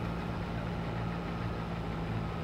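A combine harvester in a farming game gives off a steady, low, droning engine hum. It holds an even pitch and stays at a constant level the whole time, with nothing else heard.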